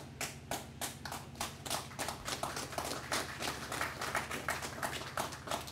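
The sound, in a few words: audience clapping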